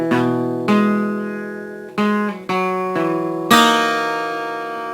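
Guitar plays the rhythm part of a song, six strummed chords in an uneven rhythm, each ringing and decaying before the next, alone and up close with no talking.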